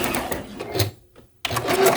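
A Juki sewing machine stitches quilt block pieces, making a fast close mechanical whir that stops briefly and then starts again.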